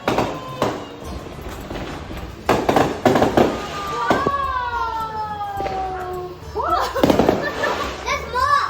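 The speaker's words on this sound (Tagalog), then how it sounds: "fireworks" Fourth of July fireworks bang in scattered sharp bursts while children shout and play nearby, with a rising whistling tone drifting over the noise.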